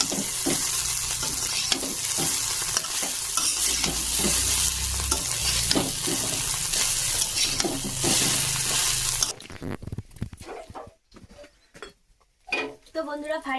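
Chowmein with eggs fries in a pan with loud, continuous sizzling and rhythmic stirring scrapes for several seconds before cutting off abruptly, after which there are quieter kitchen noises and a voice speaking.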